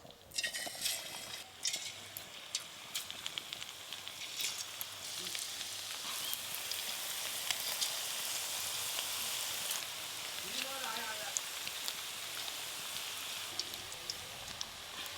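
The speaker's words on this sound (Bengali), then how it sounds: "এবারে একটা একটা করে গরম তেলে দিয়ে দেব।" Marinated chicken pieces for pepper chicken frying in plenty of hot oil, a steady loud sizzle that swells after a few seconds and continues with faint clinks and a quiet voice underneath.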